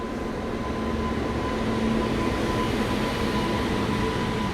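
The Tungabhadra Express with ICF coaches runs along the track, giving a steady, continuous rumble and rattle of wheels and carriages at an even level with a faint tonal hum throughout.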